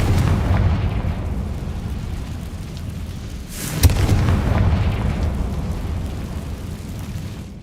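A Confringo fire spell explodes in Hogwarts Legacy with one sharp boom near the middle, set against a steady rumbling, roaring background.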